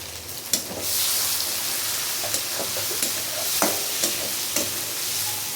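Onion and ground shrimp fry with green chillies in a pan, giving a steady close sizzle broken by a few sharp scraping and stirring taps throughout.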